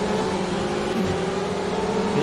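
An onboard BMW race car engine in rFactor 2 at Kyalami, a steady droning whine held at an even pitch, moderately loud and unbroken for the whole moment.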